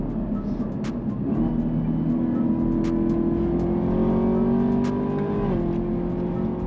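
A Chevrolet Camaro ZL1 engine revs under load, a loud, close, sustained roar rising steadily in pitch for several seconds before dropping back, with faint clicks and ticks over it.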